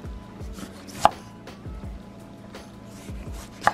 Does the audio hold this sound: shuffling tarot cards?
no